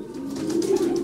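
Racing pigeons coo in a loft, a steady low murmur of soft overlapping coos that swells slightly toward the end, close and continuous with no voices.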